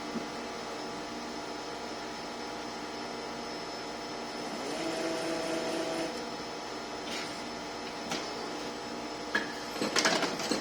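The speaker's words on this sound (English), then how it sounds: "Again, we're going to hit mold close because the robot is not on." An injection molding machine runs with a steady mechanical hum and whine while its mold closes, a rising motor drone in the middle followed by a few sharp clacks and metallic knocks near the end, with no talking.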